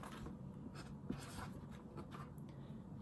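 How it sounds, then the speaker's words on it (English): A marker squeaks and scratches across a surface, writing the number 10 in short strokes over a steady low background hum. "so I have to write a 10 on top"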